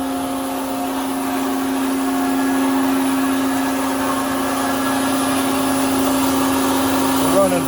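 A rebuilt 2000 Tsune TK5c-101GL cold saw cuts metal under flood coolant with a new blade, giving a steady, continuous machine whine with strong tonal hum, close and even throughout, with no talk.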